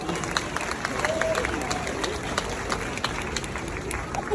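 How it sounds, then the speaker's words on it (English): Commencement crowd of graduating class of 2023 clapping, a steady wash of applause from a large gathering with scattered sharp claps and crowd murmur, moderately loud and sustained throughout. "So can you give yourselves a round of applause?"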